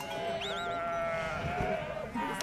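A large flock of ewes bleats while being penned. One clear, wavering bleat stands out above a busy background murmur of more distant animals.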